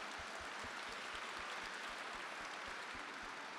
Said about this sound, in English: let's just keep practicing clapping, okay?